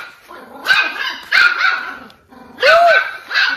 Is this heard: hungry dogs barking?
yes